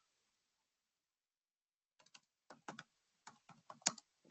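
Quick bursts of typing on a computer keyboard, with clusters of soft key clicks beginning after a couple of seconds of silence, fairly close and quiet, with no one talking.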